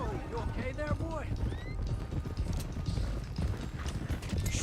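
Horses clip-clop at a run through a video game scene, steady hoofbeats near and busy with a whinny, voices and other game sounds layered on top.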